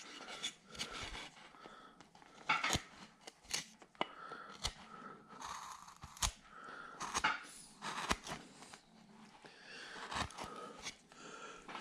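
A small 10 mm number 9 gouge carving into wood, with irregular sharp cuts and scraping bursts separated by brief pauses, close and fairly quiet.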